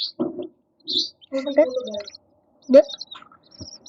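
A small chick gives short, high peeping chirps in scattered bursts at close range, mixed in with a person's soft, high-pitched talking.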